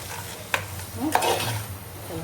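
Chopped mixed vegetables, including capsicum, tipped into a hot oiled pan for bhaji, giving a close sizzle with a couple of sharp clatters and stirring scrapes.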